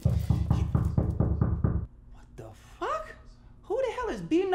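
Rapid, heavy knocking pounds on a door, about eight even blows in quick succession, loud and close, followed by a pause and then people talking and exclaiming.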